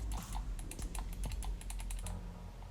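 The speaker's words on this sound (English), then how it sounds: "The buttons click in quite nicely." A Roccat Kiro gaming mouse gives a quick, irregular run of crisp, light button clicks, close and quiet, like fast tapping with no voices.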